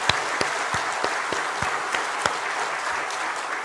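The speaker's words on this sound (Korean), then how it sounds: "하나님께 감사하는 마음으로 박수를 좀 드리고 싶습니다" A church congregation applauds during a dedication service for a new church building in Gwangju, steady clapping from many people with a few sharp, louder claps standing out near the front.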